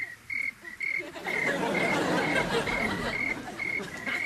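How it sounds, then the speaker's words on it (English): Steady, regular chirping pulses of crickets played from a tape repeat in an even rhythm over a dense bed of night-time insect and frog-like chatter, constant and fairly close. "Crickets? It's a tape. Sounds of the trailer park."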